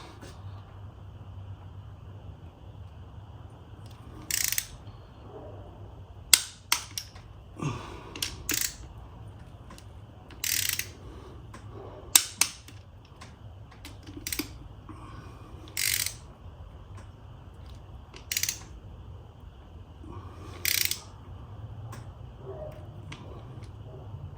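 A ratchet torques the bolts on the PCV valve of an Audi C7 A6 Quattro 3.0T in a cross-pattern sequence, producing short bursts of crisp clicking spread across a quiet garage background.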